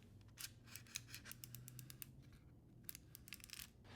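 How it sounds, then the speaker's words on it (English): The sliding part of a Kuxiu K1 3-in-1 MagSafe power bank being worked back and forth: a series of faint, crisp mechanical clicks and ticks in quick irregular bursts, close up over low background hum. "it's so satisfying in how this thing slides out"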